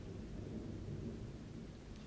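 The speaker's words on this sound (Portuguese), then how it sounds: "Tá trovejando" Strong thunder rolls as one continuous deep rumble through the whole stretch, loud and heavy, with a faint wash of rain beneath it and no voices.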